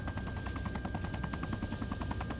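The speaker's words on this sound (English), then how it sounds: "it seems the helicopter isn't simmed properly" Helicopter in the military shooter game Arma 3, a steady loud rotor drone with rhythmic blade chop running throughout without a break.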